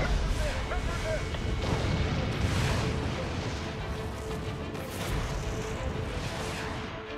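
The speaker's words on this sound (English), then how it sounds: "Send a mighty bomb right here." Booming explosions and rumbling combat noise from a bomb attack on a city in the video game Spore. A dense, sustained roar of blasts fills the whole stretch.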